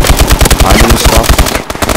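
Rapid automatic gunfire in the Exo Survival mode of Call of Duty Advanced Warfare, a loud continuous burst of dense rattling shots that cuts off near the end.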